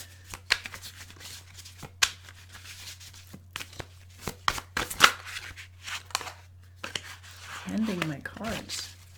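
Tarot cards being shuffled by hand, a run of brisk riffles, slaps and soft papery flicks at irregular intervals, close and fairly quiet over a low steady hum.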